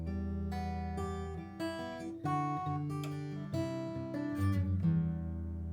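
Clean guitar playing the verse of a song, picked arpeggiated notes and ringing chords at a soft, moderate level with a steady rhythm and no voices.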